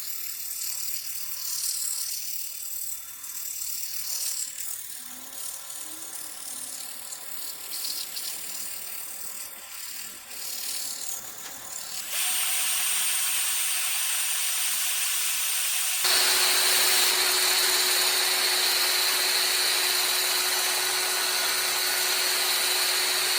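A power tool carves a small finger hole near the top of a wooden garlic keeper, a steady whirring grind that grows louder and harsher partway through, then steps up again to a bright, shrill whine.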